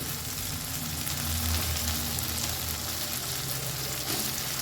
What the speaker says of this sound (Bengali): আমি দিয়ে দিলাম এর মধ্যে ভেজে রাখা পটল